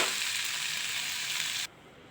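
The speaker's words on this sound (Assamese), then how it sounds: "আৰু অলপ দেৰি ভজালৈ থৈ দিওঁ, তাৰপিছত পিঁয়াজখিনি ৰঙা হৈ নমাই থৈ দিব পাৰিম।" Chopped onions and papaya flower fry in a pan with a steady, close sizzle that holds evenly and then cuts off abruptly.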